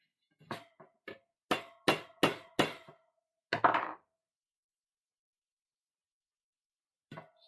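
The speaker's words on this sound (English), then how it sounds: "Let's use the proper hammer for the job." Hammer blows striking a stubborn piece, a series of sharp separate impacts in uneven clusters, loud and close, with a brief pause before a final couple of hits.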